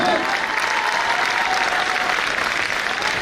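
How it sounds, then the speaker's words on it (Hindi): A large crowd at a packed success-day show in Varanasi breaks into loud, dense, sustained applause that fills the whole stretch without letting up. "एक बार इन महागुरुओं के लिए शानदार ताली होनी चाहिए दोस्तों"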